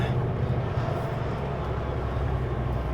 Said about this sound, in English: Engine brakes on.